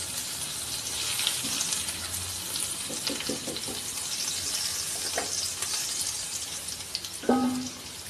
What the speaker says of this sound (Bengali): এখানে আলুগুলোকে আমি এইভাবে ভেজে নেব।